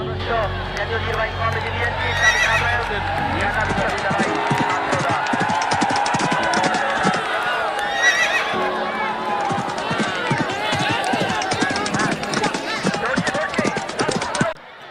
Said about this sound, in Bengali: প্রতিটি দলে তিনটি ঘোড়া প্রতিযোগিতায় ছুটছে ঘোড়াগুলো